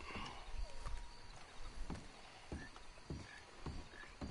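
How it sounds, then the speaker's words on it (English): Horse hooves clip-clop at a steady gait in Red Dead Redemption II, a rhythmic series of soft thuds running under ambient game sound with faint croaking frogs at night. "I can't stop my own horse."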